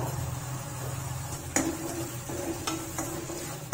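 Tomatoes frying in a pan for South Indian tomato rasam, a soft steady sizzle with a few sharp clinks of a spoon stirring against the pan.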